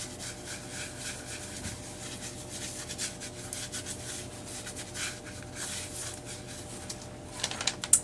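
Paint inlay on an egg is rubbed back by hand, giving soft, faint, repeated rubbing and scuffing strokes, ending with a few small taps.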